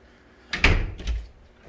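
A door opens nearby, a close latch click and swing with a soft thud, heard on its own in a quiet room.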